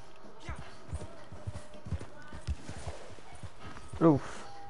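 In Red Dead Redemption 2, a horse's hooves clip-clop in a quick uneven rhythm under a speaking voice, with one louder snort or whinny near the end.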